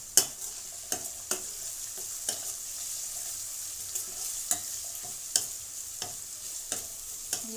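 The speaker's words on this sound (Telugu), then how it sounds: "అల్లం వెల్లుల్లి పేస్ట్ కూడా వేగిందండి" Ginger garlic paste fries in a pan for a snake gourd curry, with a steady soft sizzle broken by regular sharp scrapes and taps of a spoon stirring against the pan.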